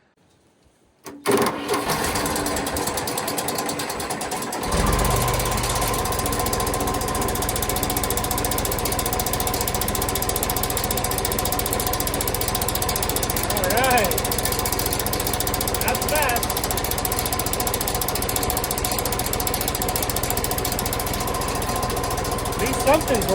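A neglected John Deere engine starts after brief quiet and runs steadily with a rhythmic mechanical chattering like a fan striking the radiator, loud and close, with a few faint background sounds.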